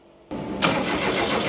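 A beach buggy engine cranks without catching, giving a steady, continuous mechanical churn that starts abruptly and holds at an even level close by, with no voices.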